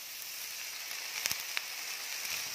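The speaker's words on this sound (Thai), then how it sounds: "ใส่น้ำลงไปค่ะ" Water hits a hot pan of glass noodles and sizzles in a steady, bright hiss, with a few small crackles and pops rising above it.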